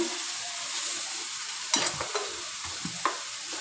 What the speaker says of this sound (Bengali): ছাতুটা দিয়ে দেবো, এইভাবে পুরটা নাড়বেন